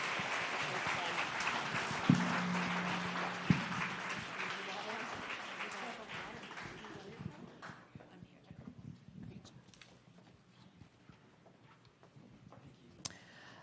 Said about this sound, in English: Let's give them a huge round of applause for their courage and their generosity.